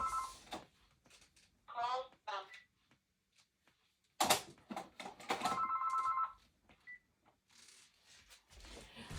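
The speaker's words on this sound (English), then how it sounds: "I'm going to talk over that ringing" A telephone rings with an incoming call, its electronic trills sounding in short bursts under and between a person talking.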